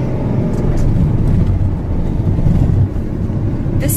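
Ferrari engine heard from inside the car during a ride, a loud, steady low rumble with road noise that holds throughout, briefly dipping near the end.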